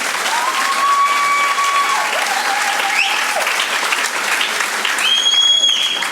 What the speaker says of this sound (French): Voilà, on peut les applaudir encore une fois.